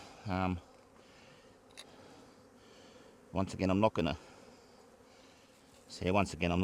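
A low, continuous buzzing of many honeybees around a hive hums throughout, interrupted by someone speaking in short bursts.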